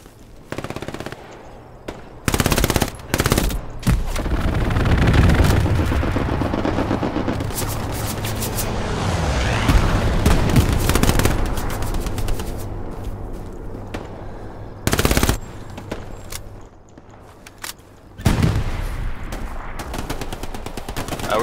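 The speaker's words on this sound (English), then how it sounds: "There's a strafe coming guys, be careful." Heavy machine-gun fire and booming blasts from an aircraft strafing run in the WWII shooter Hell Let Loose, on the Kursk night map: loud, dense and continuous bursts of gunfire with sharp spikes, and no talking.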